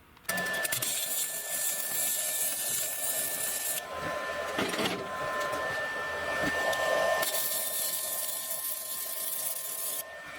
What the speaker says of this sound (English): stick a 3/32 welding rod on the welder here, and we'll see if we can do a real life repair